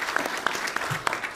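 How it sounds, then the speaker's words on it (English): Faint, sparse clapping from an audience, with a few sharper individual claps standing out over a soft, steady wash of hands. "I think we should have a round of applause for everybody."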